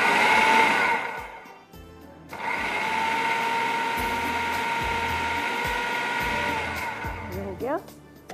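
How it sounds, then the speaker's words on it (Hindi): An electric food chopper whirs briefly on samosa filling in two short bursts, a loud motorized grinding hum with a pause between, and someone speaks softly around it. "हल्का सा चॉपर चलाना है, ज़्यादा नहीं"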